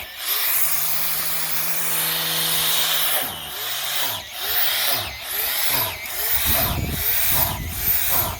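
A power grinder bores holes into a shiitake mushroom log for inoculation, starting with a steady whine, then cutting in short repeated bursts, each sliding up and down in pitch, loud and close, with a wooden grinding rasp.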